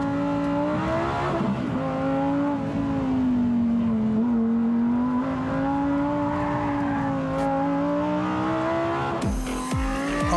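A Lamborghini Huracán STO with a 7-speed dual-clutch gearbox accelerates hard on a fast track lap, its engine drone loud and continuous and its pitch rising and dipping with the gear changes, plus a brief harsh burst near the end.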